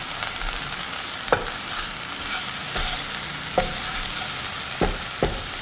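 Onions frying and sizzling in a pan for tomato soup, stirred with a utensil: a steady frying hiss with sharp scraping stirs at irregular intervals, close and fairly loud, with no talking.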